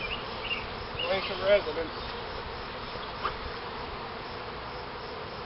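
Honeybees buzz around a hive during a trapout at a house, a steady close swarm drone throughout with a few louder passes, under brief quiet talk.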